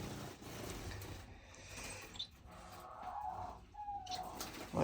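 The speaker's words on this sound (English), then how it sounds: "My diamond doves." Diamond doves in a flight cage in an indoor bird room give soft, low coos, faint and somewhat distant amid quiet room noise.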